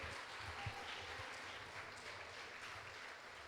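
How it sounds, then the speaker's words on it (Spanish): A church congregation claps together in sustained applause during a Spanish-language service, a dense, even wash of clapping that stays quiet and distant throughout. "Dele un aplauso al Señor."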